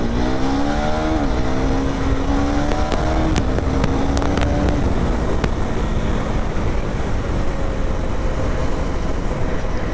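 A single-cylinder KTM Duke 390 motorcycle runs after a cold start, a loud, continuous engine drone drowned in heavy wind rumble, with pitch briefly shifting early on before settling into a steady roar.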